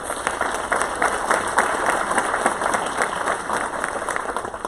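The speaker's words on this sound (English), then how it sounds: "Let's give them one more big round of applause." Sustained round of applause from the audience at a school board regular session, dense steady clapping throughout without a break.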